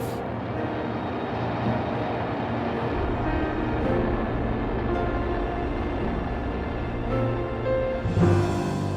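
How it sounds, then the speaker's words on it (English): A continuous, loud roar from Aerojet General's Titan missile rocket engines during a test firing, holding steady from start to end, with a brief burst near the close. "The Titan engines built by Aerojet General came to life."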